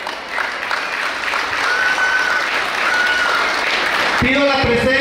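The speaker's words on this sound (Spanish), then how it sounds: "Fuertes los aplausos para recibir." Loud, dense audience applause at a preschool graduation ceremony, a continuous wash of many hands clapping close by that carries steadily throughout, with a voice and a brief tone breaking in near the end.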